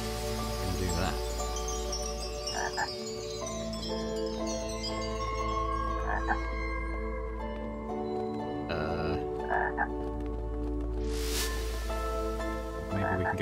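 Frogs in the video game Lost in Play croak repeatedly over a steady musical background, the calls close and fairly prominent.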